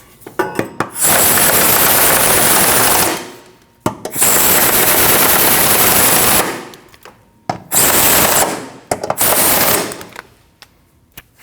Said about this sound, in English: Tighten all 4 bolts.